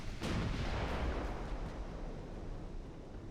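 Heavy naval gunfire in Ultimate Admiral Dreadnoughts, battleships trading salvos with light cruisers in a 1903 French campaign battle: a sharp blast opens into a continuous dense rumble of overlapping booms, loud and close with no voices.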